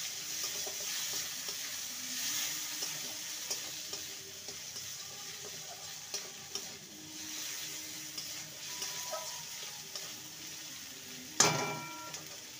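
Poha with chopped tomato is stirred in a frying pan, giving a steady soft sizzle with scraping spatula strokes and a louder clatter near the end, with no talk.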